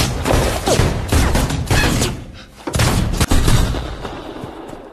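Gunfire shootout from the 2018 western film The Sisters Brothers, heard as loud, dense volleys of gunshots and booming reports in several bursts with brief lulls between them.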